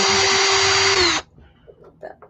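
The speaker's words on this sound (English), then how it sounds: "Maybe I was drilling it the wrong way." A power drill whines at high speed for about a second, pitch sagging under load while drilling into a miniature door, then cuts off, leaving faint handling clatter.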